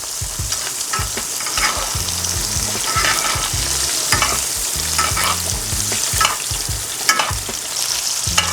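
Chuck steak sears in melted butter in a pot, a steady close sizzle broken by frequent scraping and stirring clatter, with no talking over it.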